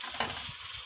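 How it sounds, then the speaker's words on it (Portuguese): Food fries in a pan with a faint, soft sizzle, brief stirring scrape near the start, quiet and close with no talk. "Deixando fritar e cozinhar."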